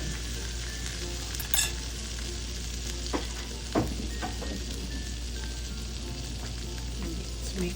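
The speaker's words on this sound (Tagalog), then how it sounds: "We'll melt our butter and add some flour." Butter and flour sizzle in a pan for a burger steak gravy, a steady close frying hiss with a few soft clicks and stirring taps on top.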